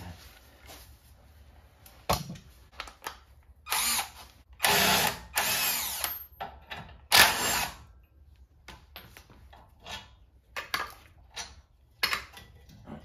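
Bursts from a power tool loosening the two brake caliper bolts on a 2017 Dodge Caravan, several short whirring runs of varying length with quiet gaps, close and loud, with small metallic clinks between.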